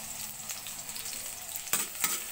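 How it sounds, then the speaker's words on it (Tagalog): Garlic sautéing in a pan for a dish of long beans and eggplant gives a quiet, continuous sizzle, with a couple of light clatters near the end. "Gisa muna tayo na bawang."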